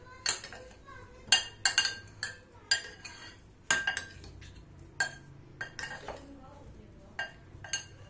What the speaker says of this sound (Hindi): और अब हमने इसको अच्छी तरह से कर लेना है मिक्स।